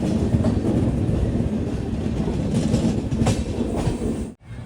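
An Intercity Express train from Bengaluru to Ernakulam rounds a wide curve between SMVT Bengaluru and Baiyappanahalli, heard from inside a general-class coach: a loud, steady rumble with rhythmic clickety-clack and a brief dropout near the end.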